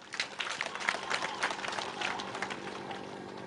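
An audience claps together at a political gathering in Kasese, a dense, steady wash of hands that carries on evenly for several seconds with no voice over it.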